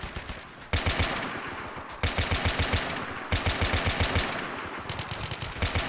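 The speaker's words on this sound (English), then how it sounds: "Oh, that M240 is destroying them." Sustained bursts of rapid M240 machine gun fire in the video game Modern Warfare, loud and close, in several long runs of evenly spaced shots with brief breaks between them.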